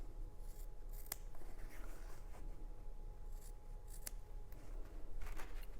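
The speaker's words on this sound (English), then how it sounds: "and then I'm going to clip the corners" Fabric scissors clip the corners of a sewn tote pocket, a few crisp, close snips spaced over several seconds against a steady low room hum.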